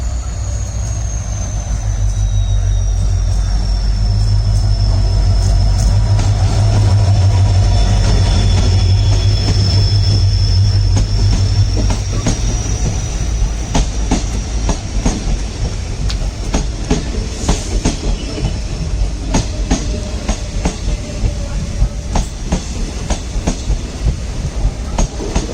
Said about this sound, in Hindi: चलिए अभी एंजॉय करते हैं ट्रेन का अराइवल